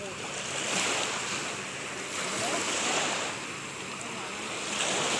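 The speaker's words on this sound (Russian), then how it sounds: "Ну, наконец нормальные волны такие пошли. И уже звук воды усиливается." Waves lap steadily against the shore of Pirogovskoye Reservoir, a continuous broadband wash that swells and eases in slow surges, with wind buffeting the microphone throughout.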